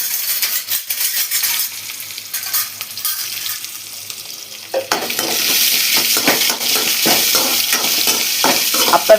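Small onions drop into hot oil midway and set off a loud, sustained sizzle, with spatula stirring and scraping clicks on the pan before and throughout, close up and without talk.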